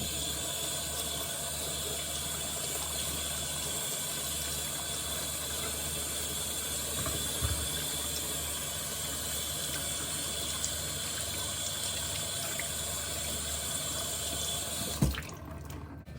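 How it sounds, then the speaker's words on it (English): Tap water runs steadily over asparagus and green beans as they are washed in a sink, a continuous close rushing stream with one brief clunk near the end. "The first thing you will need to do is wash the asparagus and green beans."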